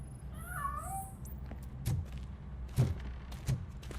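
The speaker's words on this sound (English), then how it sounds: "That cat must be hiding inside." A cat gives a faint, brief meow early on in a RoboCop: Rogue City game scene, followed by a few soft thuds and knocks.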